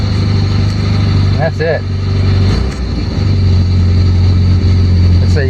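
A 1967 Volvo 1800S engine runs at a steady idle after a cold start with choke, a close, even low hum throughout while someone speaks briefly over it.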